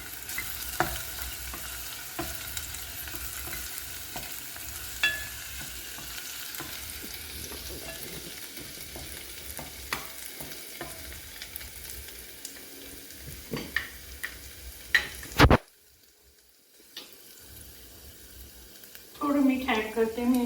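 Chopped onion and slit green chilli sauté in a pan for a Goan pomfret curry, a steady sizzle broken by stirring scrapes, then a sudden near-silent gap before a brief return of clatter.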